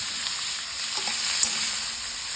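Chopped raw papaya sizzles and fries steadily in hot oil with popped mustard seeds, with soft scraping stirs in the pan throughout.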